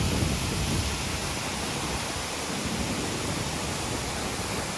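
A waterfall in the Bolaven Highlands of Laos, heard from just above the drop as a steady, dense roar of falling water with no voices.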